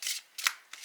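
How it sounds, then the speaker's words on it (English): A deck of Animal Guide oracle cards is shuffled by hand in three quick, crisp riffling bursts, close up with short pauses between them. "So we are shuffling here."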